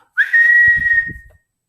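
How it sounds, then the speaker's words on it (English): Loud, sustained whistle held for about a second on a steady high pitch, starting with a brief upward slide, close to the listener and alone, with low rumbling noise underneath. "All right, whistle really, really loud."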